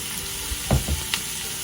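Vegetables sweat in a skillet with a pinch of salt, giving a constant loud sizzle close by, broken by two or three quick stirring scrapes near the middle.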